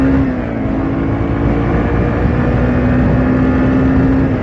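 A Yamaha TW200 motorcycle held at full throttle gives a loud, steady engine drone with a sustained low hum that barely changes pitch, running continuously with no talk.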